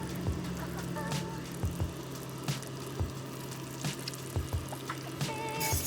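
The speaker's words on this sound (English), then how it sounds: "Add a little more barbecue sauce to what we have cooking." Barbecue sauce pours in soft, wet glugs over chicken cooking in a pan, a faint, close liquid sound under a low background hum.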